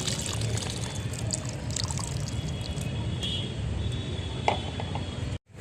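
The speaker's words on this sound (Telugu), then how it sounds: "కొద్దిగా వాటర్ పడుతుంది, వేస్తున్నాం." Water pours steadily into a vessel with a continuous trickling splash, close by, running for several seconds before stopping abruptly.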